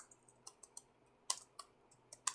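Java code being typed on a computer keyboard: a quiet, irregular run of crisp key clicks, a few sharper strikes standing out, with no talking.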